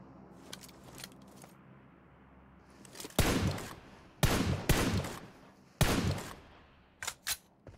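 Gunfire in the PUBG Mobile game, with faint ticking early on, then three loud, close bursts of rapid shots separated by short pauses, and two quick, lighter shots near the end.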